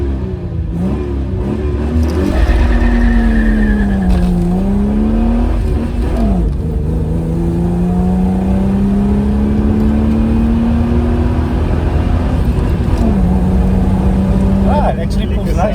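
A Ford XR6 engine revs and pulls steadily under acceleration, its pitch rising and falling through gear changes over a continuous loud drone, heard from close by.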